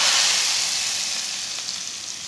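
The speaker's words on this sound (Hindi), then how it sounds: "प्याज को ब्राउन कर लेंगे।" Onions browning in hot oil in a pan for dal tadka, a loud, dense, steady sizzle close up that tapers slightly, with no talking.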